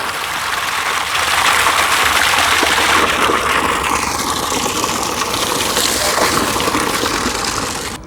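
Water gushing steadily from a BLDC solar submersible pump, running at about 3 kg pressure, a loud, continuous rushing flow that holds even from start to finish with no voices.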